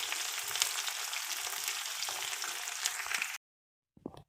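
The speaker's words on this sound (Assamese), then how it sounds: "মই কাটি ৰখা পিঁয়াজ দি দিছোঁ আৰু পিঁয়াজখিনি মই ভালদৰে লৰাই লৈছোঁ অকণমান ৰঙচুৱা হোৱালৈকে।" Chopped onions fry in hot oil in a pan for a Muri Ghonto dish, a loud steady sizzle with stirring scrapes that cuts off abruptly, followed by a brief clatter.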